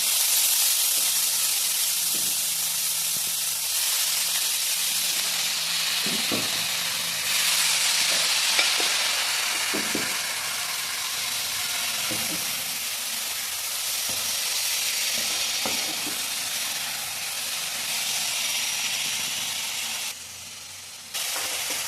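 Chopped cabbage cooks in a pan with water, salt and turmeric, giving a steady, even sizzle and hiss throughout, with occasional soft stirring clicks.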